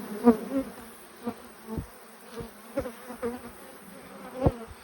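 Honey bees at a farm hive during an inspection, a soft continuous buzz close by with scattered louder passes and light knocks and handling noises throughout.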